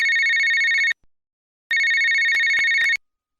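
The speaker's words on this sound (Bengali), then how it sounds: "এমন সময় নীলাদ্রির ফোন এলো।" A telephone rings in two bursts of rapid electronic trilling, each about a second long, loud and close with a short silent gap between them.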